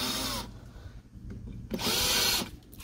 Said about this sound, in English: just have a little countersink bit here. I just like to take the burrs off the ends